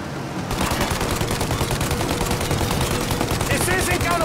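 Sustained automatic gunfire rattles nonstop at close range in Mafia: Definitive Edition as shooters fire at a plane's engines, a dense loud barrage with faint shouting and engine roar behind it.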